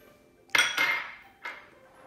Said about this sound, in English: Place the red beans into the pot, the lotus seeds, the dried tangerine peel that has been minced,